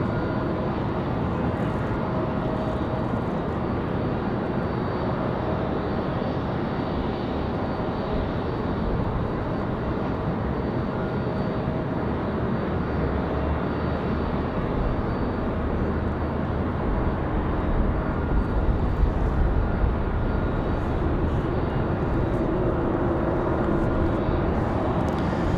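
Delta Airbus A319 airliner arriving from Boston at Raleigh-Durham airport on a windy day, a steady broad engine roar that holds loud throughout with wind noise mixed in.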